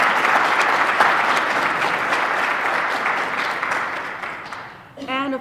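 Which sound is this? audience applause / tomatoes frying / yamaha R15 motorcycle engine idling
audience applause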